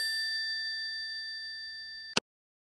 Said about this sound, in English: Listen, the phone is ringing.